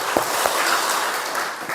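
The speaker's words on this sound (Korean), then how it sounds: "다시 한번 격려한 박수 보내봅시다" A church congregation clapping during a Sunday morning service, a moderate, steady patter of many hands heard from a short distance with a few louder individual claps.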